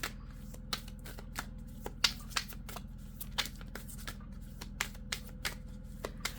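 Tarot cards shuffled and drawn at close range, a steady run of soft papery riffling with sharper clicks and slaps as cards are pulled and laid down, with no talking.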